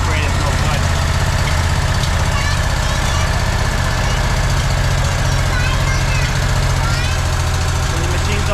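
A Walker MTGHS riding mower engine, recently converted from EFI to a carburetor, idles steadily at close range, a continuous low rumble with faint irregular knocks and no talking over it.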